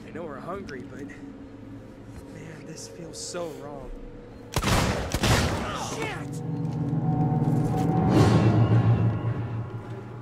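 Gunfire in the video game Alien: Isolation erupts as a sudden loud burst of sharp shots partway through, followed by rumbling booms, with someone talking over quieter game sounds before and after.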